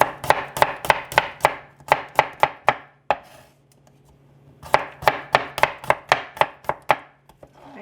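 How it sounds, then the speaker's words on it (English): Thin slicing of garlic with a knife on a cutting board for a vegan molokhia dish: quick, crisp, evenly spaced chops in two bursts separated by a short quiet pause, close and clear with no talking. "I just chop it as thin as I can, just like literally slice it"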